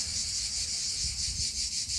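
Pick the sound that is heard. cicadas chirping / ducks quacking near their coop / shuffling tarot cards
cicadas chirping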